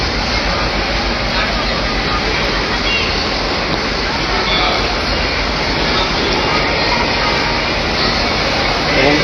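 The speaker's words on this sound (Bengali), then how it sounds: "আরও একটি যে কমিউটার ট্রেন, যেটি আসলে এই মুহূর্তে 5 নম্বর প্ল্যাটফর্মে প্রবেশ করলো" A commuter train pulls into platform 5 at a Dhaka railway station, a loud, steady rumble and roar that fills the whole stretch, with crowd babble mixed underneath.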